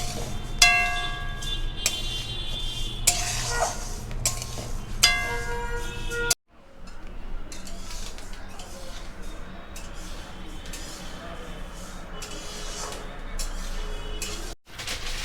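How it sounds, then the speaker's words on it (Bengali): Flax seeds dry roasting in a pan for sugar-free dry fruit laddu, with light ticking, clinking and stirring scrapes against the pan over faint background music. "এখন হচ্ছে ফ্ল্যাক সিডসটা ভেজে নেওয়া হচ্ছে সব একটা একটা করে ভাজা হবে ড্রাই রোস্ট করা হচ্ছে"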